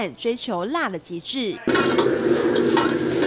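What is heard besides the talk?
stir-frying green chili peppers with fried eggs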